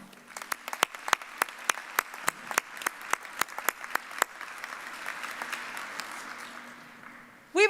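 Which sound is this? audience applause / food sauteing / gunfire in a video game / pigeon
audience applause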